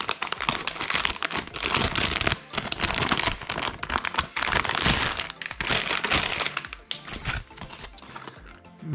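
A Radeon RX 550 graphics card is unpacked from its anti-static packaging, with busy, close-up plastic crinkling and crackling that runs continuously and fairly loud, broken by a few brief pauses.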